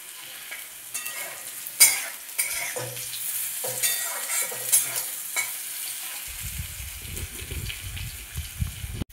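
Pumpkin and carrot bits sizzle over medium heat as a utensil scrapes and stirs them in a few sharp strokes, then a low rumbling gush of liquid rises near the end, all close by.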